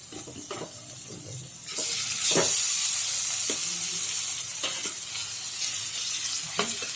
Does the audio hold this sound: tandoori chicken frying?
yes